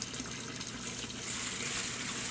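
Water pours steadily into a planting hole in a garden bed for tomato transplanting, a continuous close splashing gush that stays even throughout, with no talk.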